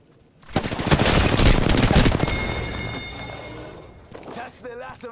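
Loud, close rapid gunfire bursts from a video game firefight, a dense rattling volley for a couple of seconds that tapers off, with a voice speaking near the end.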